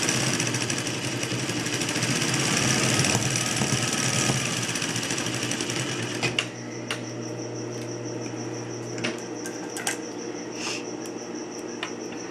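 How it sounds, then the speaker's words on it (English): Sewing machine running a quarter-inch seam on polo-shirt fabric for a coaster, a loud continuous buzzing whir for about six seconds, then stopping into quieter clicks and handling taps. "we're going to do 1/4 inch seam allowance."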